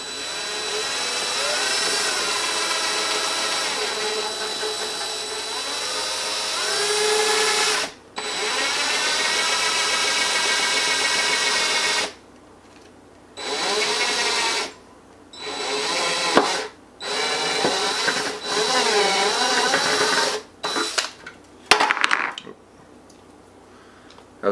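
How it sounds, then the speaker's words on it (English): A power drill runs in a long steady whine while slowly drilling an incubator water reservoir, then stops and restarts in several shorter bursts with brief pauses between them, close by. "I'm going to very carefully drill in and go very slowly."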